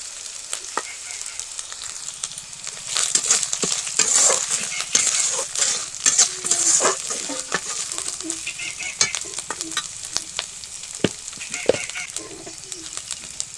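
Spiced onion masala sizzles and fries in oil for a rustic Bengali village-style cabbage curry, with steady crackling and repeated stirring scrapes throughout; birds coo and chirp faintly in the background.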